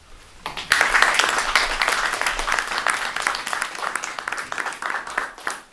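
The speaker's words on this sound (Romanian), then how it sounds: "Iar ați aplaudat degeaba." An audience at a book launch in Comănești, Romania breaks into applause, a rush of many individual hand claps that starts abruptly and stays lively before gradually thinning out.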